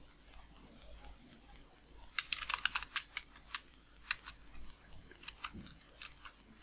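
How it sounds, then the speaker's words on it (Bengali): Keys clatter on a computer keyboard while text is entered in MS Word, a quick run of close, crisp keystrokes in uneven bursts with brief pauses between, alone without speech. "এন্টার প্রেস করে নিচে লিখলাম"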